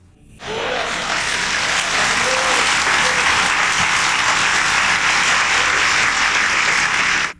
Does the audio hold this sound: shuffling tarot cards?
no